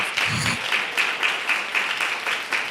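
Steady applause from an audience, many hands clapping continuously at an even level throughout.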